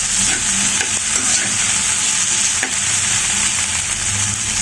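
Potatoes frying in a pan with a constant bright sizzle while a utensil stirs and scrapes them in soft irregular strokes, close and steady throughout.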